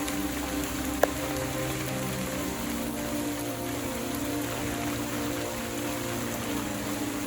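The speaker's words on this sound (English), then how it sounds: "then the rain got heavier." Heavy rain pouring down steadily during a train trip to see crocodiles, a dense, even hiss of drops on surfaces with one sharp knock near the start.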